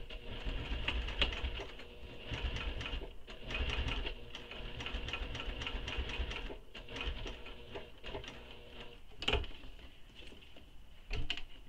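Home sewing machine stitching a tote bag handle, running in a string of short and longer whirring bursts with brief pauses between them, fairly quiet and with no voices.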